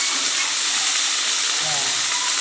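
Garlic frying in hot oil for minudo, a Filipino meat stew, gives a steady, close, loud sizzle and hiss that runs unbroken from start to end.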